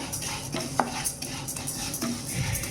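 Toor dal and fenugreek seeds being roasted in a pan, with a spoon scraping and stirring against the metal in scattered clinks over a steady low background, no talking.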